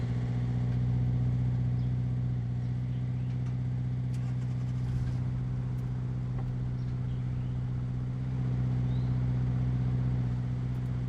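A car engine revving in neutral while parked, a steady loud low drone that rises and falls through the clip, with no talk.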